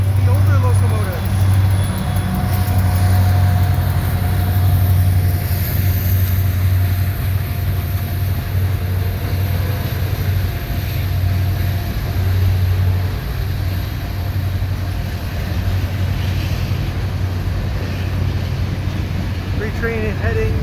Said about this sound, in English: Train heading north.